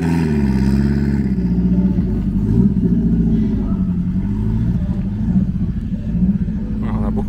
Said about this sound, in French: on tombe au moment où une R5 Turbo 2 arrive